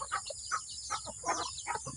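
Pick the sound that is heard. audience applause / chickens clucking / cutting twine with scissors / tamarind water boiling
chickens clucking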